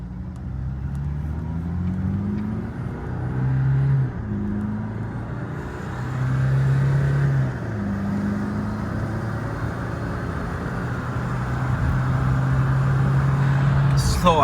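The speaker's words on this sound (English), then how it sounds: "Slow ass fucking car." A car engine drones and rises in pitch as it accelerates, revving steadily through several gear changes, heard from inside with some rattling.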